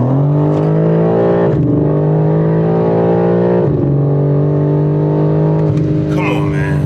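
Loud, steady engine drone from a lifted and stretched BMW M3 fitted with an 85 engine, holding a strong sustained tone with a couple of brief dips as it accelerates close by.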